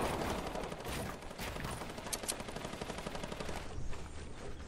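Rapid bursts of sniper and automatic gunfire in the video game Fortnite crackle loudly and continuously through a dense, busy mix, with several sharper shots standing out.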